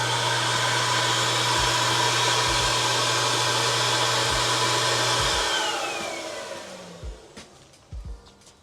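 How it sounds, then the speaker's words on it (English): A vacuum cleaner for mobile car detailing, drawing about 1,500 watts from a portable power station, roars steadily and loudly up close, then winds down and fades near the end, followed by a few thumps. "All right, we're gonna test the vacuum out now."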